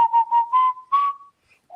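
A person whistles a short tune, close and clear: several quick chirpy notes followed by a long sustained tone, then a brief pause and a final soft note, with no talk over it.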